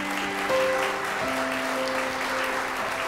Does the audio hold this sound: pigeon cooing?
no